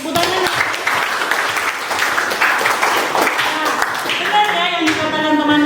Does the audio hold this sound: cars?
no